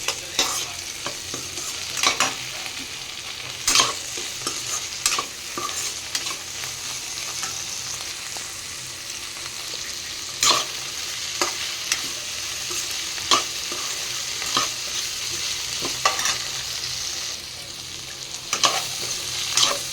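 Ridge gourd stir-fry being stirred in a hot pan, with a steady sizzle of frying and repeated scraping strokes of the spoon against the pan, close and continuous with no talking.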